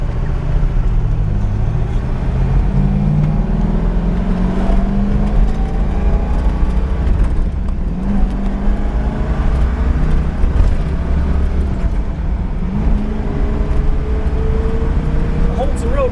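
A 1970 Chevrolet Camaro RS Z28 with a 360-horsepower V8 pulls hard along a road, its engine droning loud and steady from inside the cabin while the pitch rises through the gears. Someone talks over it.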